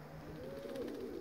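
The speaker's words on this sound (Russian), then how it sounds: "Голуби боятся, дикарят." A pigeon gives a soft, low coo close by, a single rising and falling call over faint background hiss.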